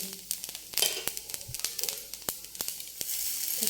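Semolina (suji) fries in refined oil in a pan for simei upma, giving a soft continuous sizzle broken by quick crackling pops and stirring clicks, close and fairly quiet.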